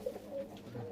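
Fulshira and Kalshira breed pigeons, a male and female breeding pair, coo softly in a brief low murmur, close to the listener and without talk.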